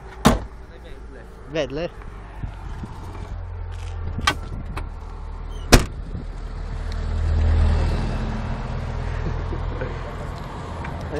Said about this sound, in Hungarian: Most jön egy autó, lehet rendőrök